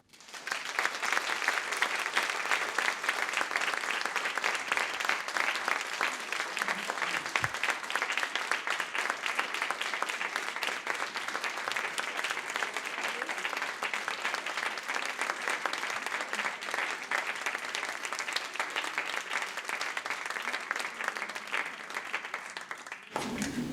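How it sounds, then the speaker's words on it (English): Sustained applause from a large audience at a talk at the International School of Prague, steady and dense clapping for over twenty seconds before it cuts off. "that was heartfelt applause"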